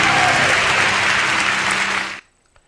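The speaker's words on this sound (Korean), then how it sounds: "우리 영광의 박수 올려드리겠습니다" Church congregation applauding during a Wednesday evening worship service, a dense, loud burst of clapping that cuts off abruptly after about two seconds, leaving near silence.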